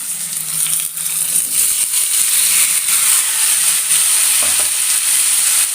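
Cooked taro (chembu) dropped into a hot pan of tempering with curry leaves, giving a loud, steady sizzle and hiss. Stirring scrapes come and go while the frying continues close up.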